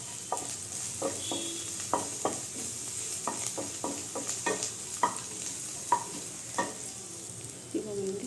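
Chilli chicken with turmeric stirred and fried in a pan: a steady sizzle broken by repeated scraping and clinking spatula strokes in an irregular rhythm, close up, with no talking.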